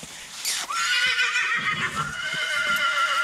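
Field horses neighing: a loud, close whinny rises sharply, then stretches into a long wavering call that holds to the end, with faint rustling and movement underneath.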